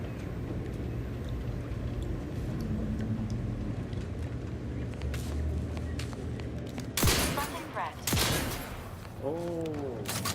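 Shotgun blasts in The Outer Worlds 2: two loud, sharp bursts about a second apart, cutting through a steady rumbling game ambience with a low engine-like drone underneath.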